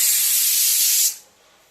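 A pressure cooker on a home kitchen stove vents steam in a loud, close, breathy hiss lasting about a second before it abruptly falls away to quiet.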